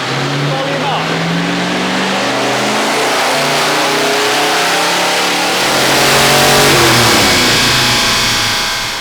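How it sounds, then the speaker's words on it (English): A 1968 Dodge Charger big block with a manual transmission revs hard on a dyno, loud and close, its engine note climbing steadily in pitch and swelling louder toward the end. "This is my 1968 Dodge Charger big block manual"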